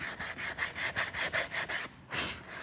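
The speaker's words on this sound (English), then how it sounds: "Same principles as when you were sanding wood." Rhythmic back-and-forth rasping of sandpaper on a surface, about ten quick strokes, close up, followed by a short pause and one longer stroke.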